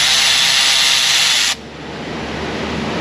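Power tool spinning out bolts in an auto shop, loud and close with a high whirring whine that cuts off abruptly halfway through, leaving quieter shop noise behind, with no talking.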